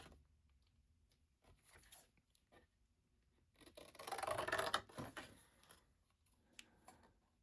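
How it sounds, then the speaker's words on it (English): Scissors snipping and rubbing through material while crafting a Thrinchie, faint and close, with scattered light clips and one denser rustling cut in the middle. "Grab the scissors."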